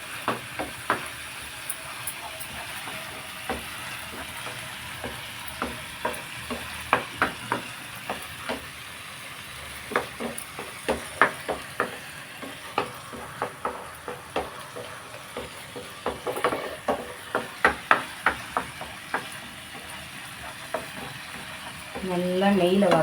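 Drumstick halwa fries in ghee over a low flame, with a steady close sizzle broken by frequent scraping stirs of the spoon against the pan.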